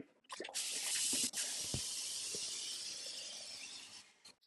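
Tap water pours out of a countertop reverse osmosis filter tank in a steady rushing stream, loud and close, tapering off near the end with a few drips and knocks.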